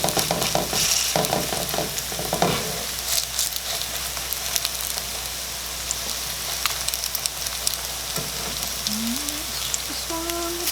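Zucchini fritters frying in a pan give a steady, close sizzle with crackling pops throughout, some scraping and utensil clatter early on, and a few brief tonal squeaks near the end; no one speaks.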